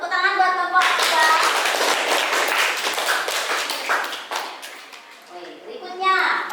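A classroom full of students bursts into steady clapping for a presenting group that lasts several seconds and then fades, with a voice speaking before and after.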